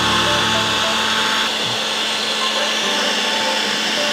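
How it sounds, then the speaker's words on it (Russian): Construction heat gun warming up for soldering LED strip, a loud continuous blowing whir with a steady fan tone, running unbroken from start to end. "Сейчас фен чуть прогреется."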